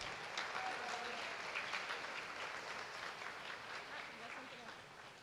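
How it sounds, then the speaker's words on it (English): At a high school all-sports banquet, a crowd applauds the volleyball team with a faint, distant, even wash of clapping that holds steady throughout. "Another round of applause for our volleyball team."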